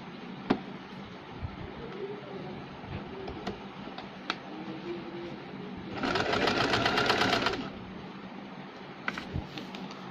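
A sewing machine stitching the fall onto a saree runs in a loud, close burst of rapid stitching for a couple of seconds, surrounded by quieter handling sounds and small clicks.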